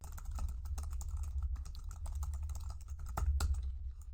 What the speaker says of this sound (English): I can start typing in letters up here to get different results.